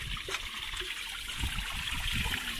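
Water draining out of a loosened cartridge filter housing, a steady close trickle and splash with a hissy wash of flowing liquid throughout.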